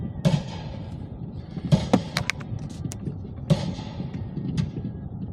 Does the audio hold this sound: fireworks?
yes